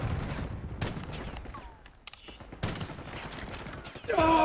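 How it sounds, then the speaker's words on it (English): Mechanical clicks and metallic slides of a sniper rifle being handled in its inspect animation in Black Ops 6, a few close weapon-handling clacks over game ambience, ending in a louder burst of sound, with no talk. "This is the inspect for the sniper."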